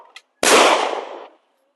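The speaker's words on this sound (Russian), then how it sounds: "сейчас я немножко стреляю, рассказываю вам" A single shotgun blast during a sporting clays round, a sharp loud report whose tail fades over about a second, preceded by a faint brief click.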